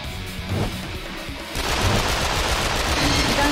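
Gunfire in the video game Yakuza: Dead Souls, scattered shots that break into dense, rapid automatic fire partway through, loud and sustained under game sound with no speech.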